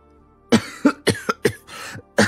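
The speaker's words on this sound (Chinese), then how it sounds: "又开始咳嗽了起来" A person coughs repeatedly, six dry close bursts spaced about a third of a second apart with a short pause before the last, no speech.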